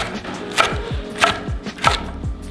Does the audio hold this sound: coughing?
no